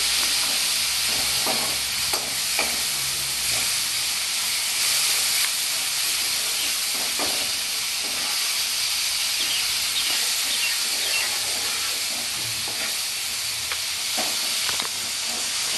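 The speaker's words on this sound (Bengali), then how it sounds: "আদা রসুনের গন্ধটা যাতে কাঁচা কাঁচা না থাকে, তার জন্য এটা আমি দুটো বেশ ভালো করে আমি ভেজে নেব" Ginger and garlic paste frying in a pan, a steady hissing sizzle running throughout with scattered faint stirring scrapes and clicks, close and continuous, without any talk.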